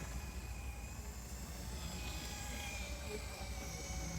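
A HobbyPlus CR18P Arktos RC 6x6 wrecker flatbed runs at full throttle in second gear, its electric motor and drivetrain giving off a steady, continuous whine and rumble that stays even throughout.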